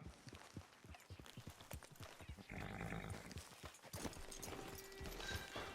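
Horse hooves clip-clop in the Red Dead Online video game, a quiet, steady rhythm of walking hoofbeats that later blends into a rising hiss of ambient background sound.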